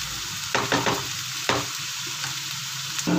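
Peas and mixed vegetables fry for fried rice, a steady bright sizzle in a pan broken by several scraping stirs of a spatula, close and loud with no talk.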